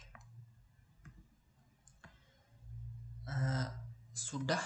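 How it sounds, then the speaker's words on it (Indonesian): An RJ45 connector on UTP cable crimped with a crimping tool, a couple of faint clicks followed by louder squeezing and clattering of the tool near the end, with someone talking quietly. "konektor RJ45 yang sudah dimasukkan kabel UTP tadi ke dalam mulut tang crimping dan jepit sampai mengeluarkan suara klik"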